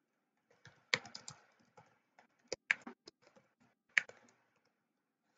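Quiet, irregular clicking of computer keys being typed in a roleplay video game, coming in short bursts with brief pauses and no talking.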